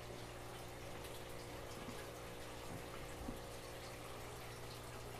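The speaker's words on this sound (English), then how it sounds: "Water coming in." Water flowing steadily through an above-tank aquarium refugium, a constant low gushing and trickling pour with a pump-like hum underneath, continuous and fairly faint throughout with no voices.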